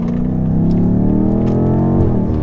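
A heavy, roughly two-tonne BMW M car accelerates hard out of a corner, its engine note rising steadily in pitch as revs climb, loud and close from start to finish with no voices.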